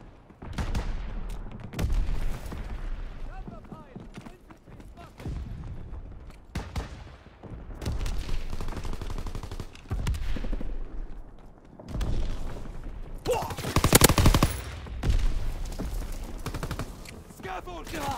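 Dense gunfire from Call of Duty WWII: repeated bursts of automatic rifle and machine-gun fire mixed with booming blasts, heaviest in a loud volley near the end, with voices talking faintly under the battle.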